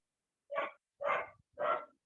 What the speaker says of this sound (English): your dog is making noise